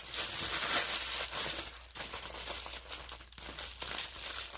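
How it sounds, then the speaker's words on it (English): Gift wrap packaging crinkles and rustles steadily while being handled for a craft project, with brief pauses and renewed bursts of crackling close by. "Sorry for the crinkling."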